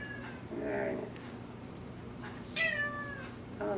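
A cat meows a few times indoors, soft and fairly close, the cries mixed with faint talking in the background.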